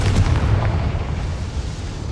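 A Confringo blasting spell from Hogwarts Legacy explodes in a short, heavy, rumbling boom that fills the whole two seconds.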